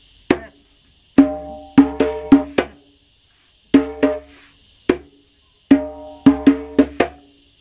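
A hand-drum groove played without ghost notes, only the main strokes: clusters of sharp, close slaps and tones in a steady repeating pattern with short gaps between phrases, no talking.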